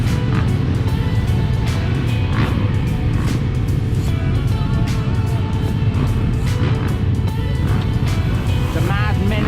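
Motocross bikes rev and roar at Tallhults Motorstadion in Hagfors, a dense, loud engine drone with rising and falling throttle bursts, while someone talks over the noise.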